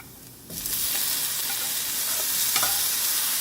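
Tomatoes and onions sauté in oil in a pan with salt added, starting with a sudden loud sizzle that holds as a steady, close frying hiss with a few faint stirring clicks.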